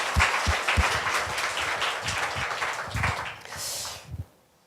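Applause from a church congregation during a thanksgiving worship service marking a move to a new place of worship, a few seconds of brisk clapping that stops abruptly.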